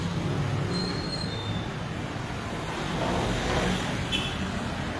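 Light rail train wheels screech with a sustained high metallic squeal over steady rumbling track noise in a Manila city street, moderately distant, with no one speaking.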